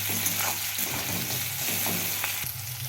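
Chopped tomato and onion fry with spices in a pan, a soft, continuous sizzle under brief stirring scrapes and a few utensil taps, heard up close without talking.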